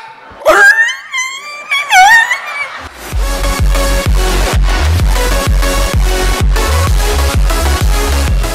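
A person's voice imitates a dog with a few rising and falling yelping barks. Rhythmic music with a thumping beat then takes over and plays loudly to the end.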